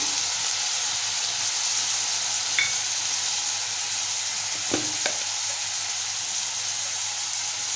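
Chopped tomato frying with onions in a pan for a Malvani clam masala curry, a steady broadband sizzle with a few soft stirring knocks, close and continuous, no talking.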